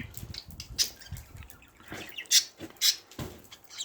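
Budgerigars kept outdoors in snowy winter weather give several sharp, bright chirps amid soft fluttering and rustling from a nearby cage. The calls come irregularly, with no talking.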